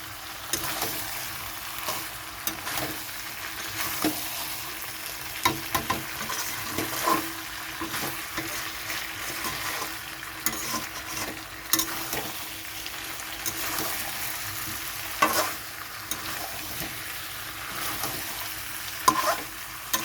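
Chicken kosha stir-fried in a pan over a full high gas flame, a continuous loud sizzle broken by frequent scraping and clattering of the spoon against the pan, close up and without talk.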